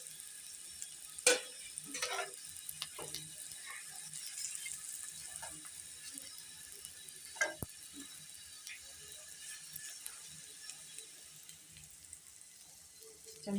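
Beef and cauliflower paratha frying in a pan on a low flame, a soft continuous sizzle with occasional louder crackles and a scrape or two, quiet and close, no talk.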